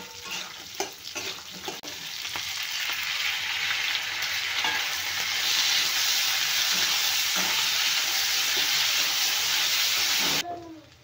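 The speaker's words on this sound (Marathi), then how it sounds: "कांदा पण आपल्याला भाजून घ्यायचा आहे छान, थोडा लाल होईपर्यंत भाजायचा." Onion sizzles and crackles steadily in a hot pan as it roasts until reddish, with occasional scraping stirs, close and fairly loud, until it cuts off abruptly.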